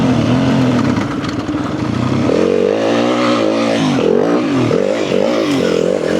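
A motorcycle engine revs loudly and close on a sand practice track, its pitch stepping up and down through repeated throttle blips and gear changes.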